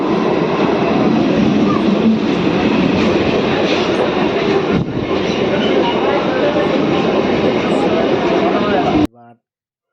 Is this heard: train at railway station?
yes